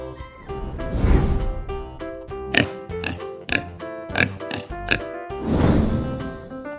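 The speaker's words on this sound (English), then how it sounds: "Pig. Pig." A pig grunts and oinks in a series of short, snorting bursts close by, repeated in a choppy rhythm between louder swells at the beginning and end, with light music underneath.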